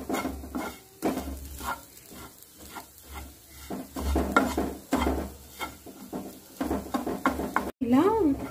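Raw moong dal for kachori filling fried on a low flame, with a spoon scraping and stirring the pan in repeated rhythmic strokes over a faint sizzle, close up.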